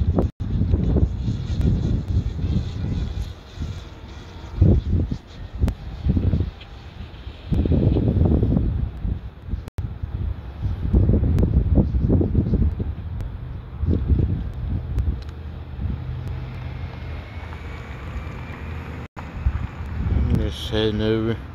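Strong wind gusts buffet the microphone outdoors while a Mavic Mini drone is flown, loud low rumbling bursts that rise and fall in waves, with someone talking between them.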